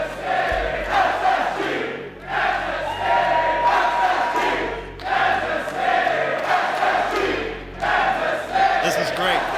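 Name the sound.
esports crowd cheering at Rocket League championship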